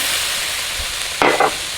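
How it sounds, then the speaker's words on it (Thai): A brief burst of sizzling as fish sauce hits the edge of a hot wok, two quick hissing surges over faint background kitchen noise. "น้ำปลาก็ใส่ที่ขอบกระทะ แบบนี้"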